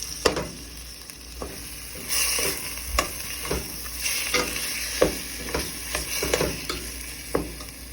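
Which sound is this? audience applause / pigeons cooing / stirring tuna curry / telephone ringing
stirring tuna curry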